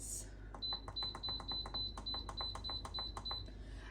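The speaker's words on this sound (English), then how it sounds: "you're waiting for the beep so that then you can wait for it to go to pressure" An Instant Pot electric pressure cooker beeping after pressure cook time is set, a rapid series of about ten short high electronic beeps, faint over low room hum.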